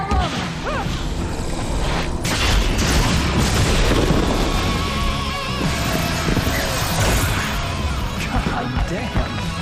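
Rocket strike in the video game Alan Wake: a loud, sustained roar of blasts and crashing debris fills the scene from start to finish with little letup.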